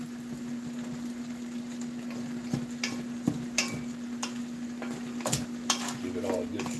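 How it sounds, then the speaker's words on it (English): Shrimp and grits stirred in a pot, scattered light scrapes and taps of a spoon against the metal over a steady low hum, quiet and close. "Give it all a good stir."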